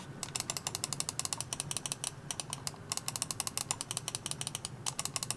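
Pwnage Symm 2 mouse with Kailh 8.0 switches clicking rapidly and steadily, a dense run of sharp, crisp clicks heard close up and alone.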